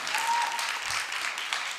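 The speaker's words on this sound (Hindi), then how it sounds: "तालियां और थोड़ी सी ज्यादा बजाओ" Audience applause at a Hindi kavi sammelan poetry recital, a steady dense wash of clapping from a crowd filling the whole clip at even loudness.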